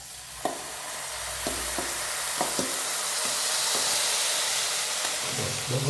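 Bhagar grains sizzle and fry in hot ghee in a pan while a spoon or spatula stirs them now and then, making scraping taps over a steady close hiss.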